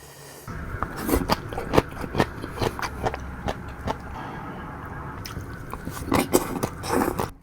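Close, crunchy biting and steady chewing of Thai som tam made with bamboo shoots, a run of moist crunches in an irregular rhythm with no talking.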